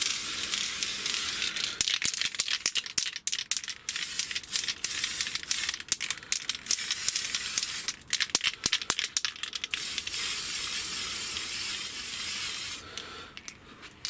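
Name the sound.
spray painting first coat on model car body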